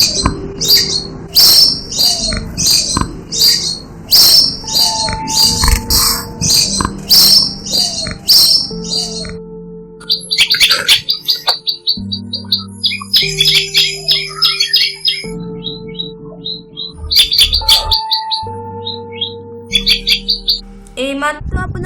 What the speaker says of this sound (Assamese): দেখিবলৈ ক্ষুদ্ৰ আৰু অতি চঞ্চল এই চৰাইবিধক টিপটিপি বা কোনোৱে টিপচী চৰাই বুলিও কয়